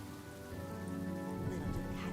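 Steady rain patters on surfaces in Honkai Star Rail, a continuous soft hiss of drops at moderate level, layered with sustained low tonal hum from the game's background.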